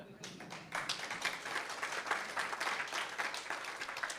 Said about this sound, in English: I love that you guys are like clapping in between.